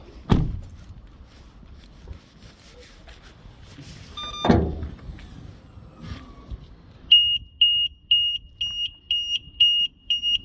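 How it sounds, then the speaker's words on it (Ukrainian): 2020 Renault Megane estate with K9K diesel engine, two door thumps followed by its alarm sounding a rapid series of short, loud, evenly spaced high electronic beeps. "Спрацювала сигналізація."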